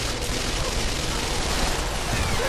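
Dense, continuous gunfire from a VR gun game with an MP5 and other weapons, a roaring wash of rapid overlapping shots and bursts filling the whole moment at steady loudness, with no pauses and no clear talk over it.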